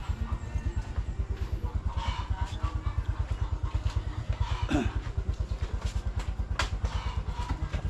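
A motorcycle engine idles close by beside a house, giving a steady, rapid thumping beat with a brief rise partway through and some faint background clatter and noise.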